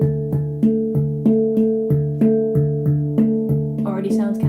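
Resonant metallic handpan tones struck in a quick, alternating paradiddle pattern, ringing notes overlapping, close and clear.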